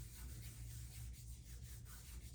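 Cornstarch rubbed over armpit skin before waxing, a soft continuous brushing friction with gentle rhythmic strokes, close and quiet.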